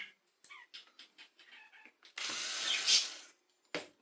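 The last screws being driven into a Vax vacuum cleaner, a series of short, close ratchety clicks followed by a louder burst of a powered screwdriver whirring and a final brief buzz, no talking.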